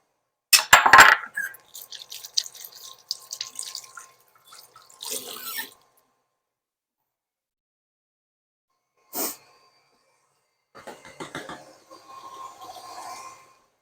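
Tap water rinsing fingers in a kitchen sink, with short splashy bursts, a few clinks and drips, and brief pauses between runs of water.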